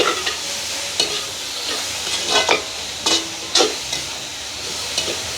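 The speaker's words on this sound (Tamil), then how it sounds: "இப்படியே லீக்ஸும் எங்களுக்கு கொஞ்சமாக வதங்கட்டுக்கு" Sliced leeks frying in a pan for egg noodles, cooked outdoors in a village: a constant loud hiss of frying broken by several sharp scraping stirs of a spatula.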